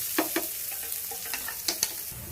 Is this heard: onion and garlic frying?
yes